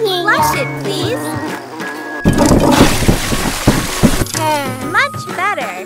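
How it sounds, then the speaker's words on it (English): Cartoon toilet flush in the Panda Lu kids care game, a sudden burst of rushing water lasting about two seconds amid chimes and playful jingles, with a childlike character voice chattering before and after. "Flush it, please."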